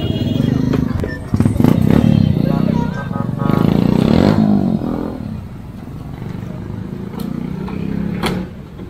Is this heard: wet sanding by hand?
no